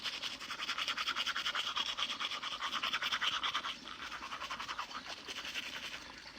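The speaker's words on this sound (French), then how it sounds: "Je lave, je me brosse les dents." Someone brushes their teeth outdoors in a village, making fast, rhythmic bristle scrubbing that is close and steady, with a brief pause partway through, and no talking.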